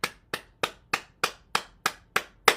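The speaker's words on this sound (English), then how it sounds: "now we're gonna clap our hands" Nine evenly spaced hand claps come at a steady moderate pace during a relaxation exercise, crisp and close with short decays and no talking.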